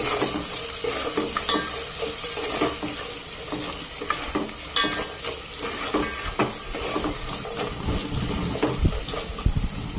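Vegetables fry in a pan with a continuous close sizzle and hiss, punctuated by stirring scrapes and light utensil knocks against the pan throughout.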